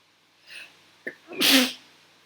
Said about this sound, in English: Oh god, I sneezed too much.